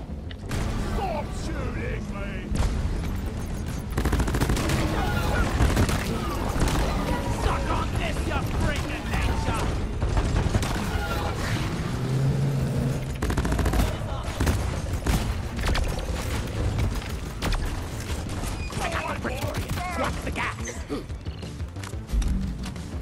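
Rapid gunfire in the mining shooter game Deep Rock Galactic, dense overlapping bursts and clatter that run almost nonstop for over twenty seconds while players talk over them.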